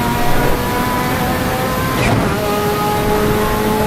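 Sustained high-revving F1 car engine at full power in a racing video game on a Nordschleife straight, loud and steady with harmonic whine throughout and a brief shift or dip midway.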